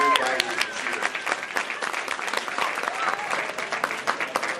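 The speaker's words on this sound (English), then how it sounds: "So let's give them a round of applause." An audience at a senior breakfast claps in a full round of applause, loud and continuous with sharp individual claps, and a voice speaking faintly underneath at times.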